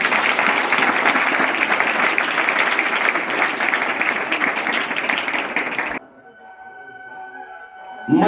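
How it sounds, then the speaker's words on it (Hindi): Loud, dense applause from a school crowd opens a science and maths quiz competition, steady clapping that stops abruptly, followed by quieter room noise. "एक बार इस प्रतियोगिता के लिए शुरुआत के लिए जोरदार ताली"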